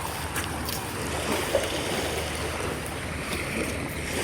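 Sea waves wash along a beach in a steady, broad roar with wind noise, close and continuous throughout without a break.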